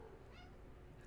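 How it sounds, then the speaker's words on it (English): A house cat gives a single short meow for attention, faint and somewhat distant beneath a steady low background hum. "Your cat wants attention."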